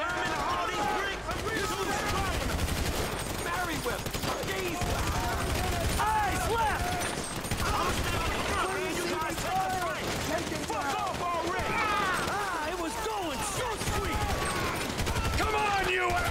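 Rapid gunfire from the video game GTA 5 during a heist mission, with repeated bursts and a near-constant fusillade throughout, while someone talks over it.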